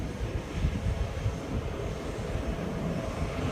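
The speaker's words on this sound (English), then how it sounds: "I think we see a Gulf Stream either coming in or getting ready to take off." A Gulfstream business jet taxiing at New Orleans airport gives a steady, distant low rumble of engine noise mixed with wind buffeting on the microphone, continuous and fairly faint throughout.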